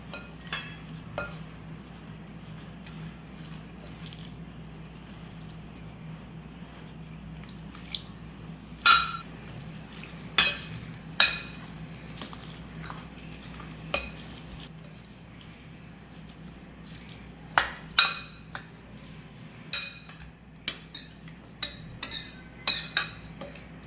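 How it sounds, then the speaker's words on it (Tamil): Quiet, intermittent scraping and clinking of a spoon against a bowl as poha idli batter is stirred with added water, over a low steady background hum, with no talking. "இட்லி மாவு பதம் வர வரைக்கும் தண்ணி ஆட் பண்ணி மிக்ஸ் பண்ணிக்கலாம்"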